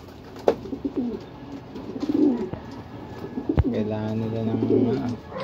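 Racing pigeons coo in a low, repeated rumbling pattern near the end, with earlier scattered calls and a sharp knock midway, while a person speaks throughout.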